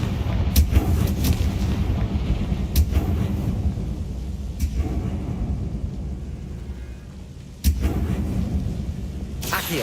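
Confringo blasting spells go off in a Harry Potter video game, with several sharp booming explosions at irregular intervals over a low rumbling background, one of the final blasts louder and closer.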